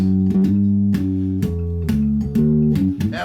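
Bass notes played through a bass amp fitted with a Peavey Black Widow speaker, a series of deep plucked tones with clear sustained harmonics, changing pitch every half second or so, close and loud with no talking.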